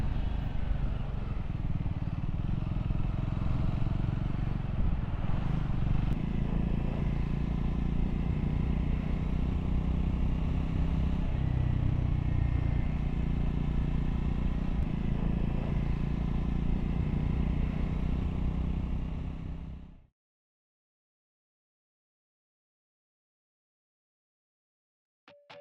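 A Triumph Scrambler 400X on its first break-in ride, the engine droning steadily with wind rush and road noise for about twenty seconds before cutting to sudden silence, no voices over it.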